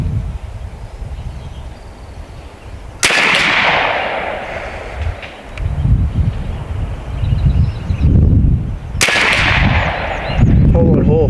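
Two sharp, loud rifle shots from a B&W Bin Tac S45 fire several seconds apart outdoors, each cracking and then decaying, with wind noise and brief rustling between them.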